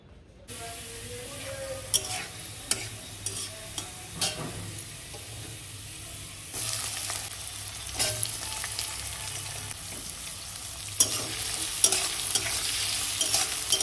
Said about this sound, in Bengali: তো বন্ধুরা দেখতেই পেলে আমি তেলের মধ্যে প্রথমে রসুন কুচোগুলো দিয়ে নিয়েছি, তারপরে কিন্তু রসুন কুচিগুলি একটুখানি ভাজা ভাজা হয়ে যাওয়ার পরে তারপরে পেঁয়াজ দিয়েছি,